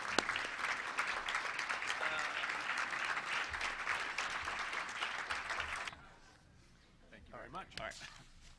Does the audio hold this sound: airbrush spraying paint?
no